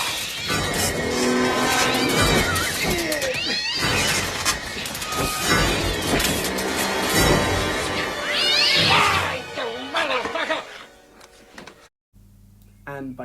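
A cat yowls and cries during a scene from the film Apt Pupil. The animal sounds are mixed into a dense, loud film soundtrack of music and effects that drops away abruptly near the end.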